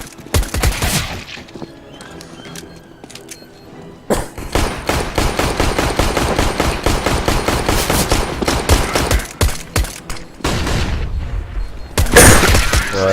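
Gunfire from the video game Counter-Strike: Global Offensive: loud rapid bursts of automatic fire, with a short opening burst, a long sustained volley, then more clustered shots.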